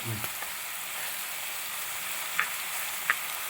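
Half a teaspoon of fenugreek seeds frying in hot oil for a Kottayam-style prawn curry with coconut pieces, giving a steady, quiet sizzling hiss with two faint sharp clicks near the end.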